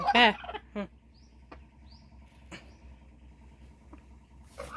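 A hen gives a short loud squawking call at the start, followed by a few faint clucks and clicks over quiet background hum.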